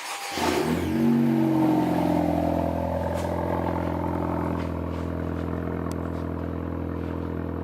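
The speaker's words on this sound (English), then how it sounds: "give us some revs" A 2018 Honda Civic Si with its muffler removed starts with a clatter, revs up loudly, then settles into a steady, throaty idle with a deep exhaust drone.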